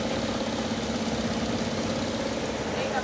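A flooded 2022 Mitsubishi Xpander engine running after being started, a steady, even idle hum close by under a background of voices.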